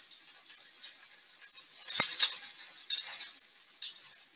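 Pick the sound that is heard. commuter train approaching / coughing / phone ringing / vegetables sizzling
vegetables sizzling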